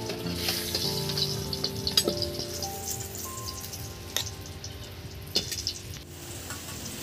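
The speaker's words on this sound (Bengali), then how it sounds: "এই বেগুন ভাজা তেলে দিয়ে দিতে হবে" Eggplant fries in hot oil with a bright, crackling sizzle, joined by stirring scrapes and a few sharp clinks of a utensil against the pan, no voices.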